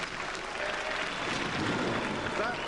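Crowd at a Robot Wars arena reacting with a steady wash of applause and murmuring throughout, a voice faintly mixed underneath.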